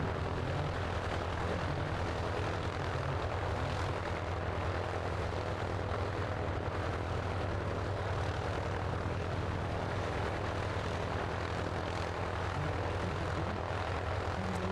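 A display aircraft banks into a knife-edge pass at an air show, its propeller engine droning loud and steady for the whole stretch, with no voices over it.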